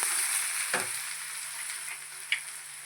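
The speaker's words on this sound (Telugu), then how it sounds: "కొద్దిగా మినపప్పు చక్కగా వేయించుకుందాం." Urad dal, chana dal and onion fry in hot oil in a pan, a steady close sizzle with a brief stirring scrape and a faint clink of the spoon.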